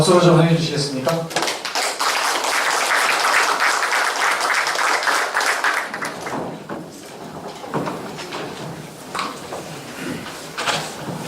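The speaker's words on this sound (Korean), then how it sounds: "자, 그럼 박수로 좀 환영해 주시겠습니까?" An audience at a culture forum applauds to welcome the presenters to the stage, a dense patter of clapping that fades after a few seconds as a speaker's voice takes over.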